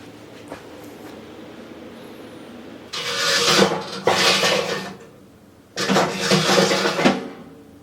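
Scraping surface rust off an antique wood-fired cast iron cook stove, with two bursts of harsh metallic rasping scrapes, loud and close, separated by a quieter pause with a few small knocks.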